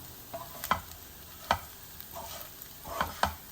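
Potato pieces with garlic chili powder are stirred and fried in a pan: a steady low sizzle broken by several sharp scraping strokes of the spoon, spaced about a second apart, close and clear with no talking.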